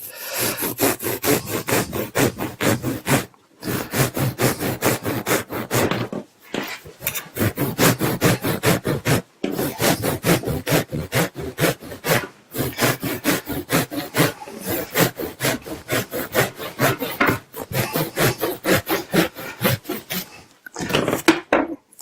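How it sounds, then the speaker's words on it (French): A hand saw cutting at an angle through a wood fibre insulation panel: steady, rapid rasping strokes continuing almost without pause for over twenty seconds, broken only by a few brief stops, close and fairly loud, with no voices. "je vais couper un peu en biais"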